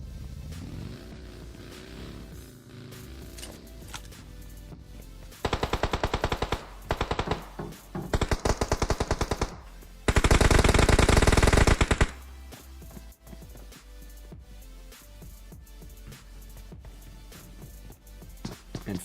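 Gunfire in a PUBG Mobile match, with a rapid automatic burst and then a long, loud sustained volley standing out over a steady low rumble of game ambience, and no voices.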